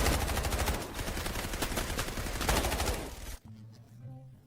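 Rapid automatic gunfire from shooting bots in the video game Delta Force, a loud dense burst of fast repeated shots that stops abruptly near the end, leaving quieter game ambience.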